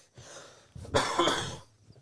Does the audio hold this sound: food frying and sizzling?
no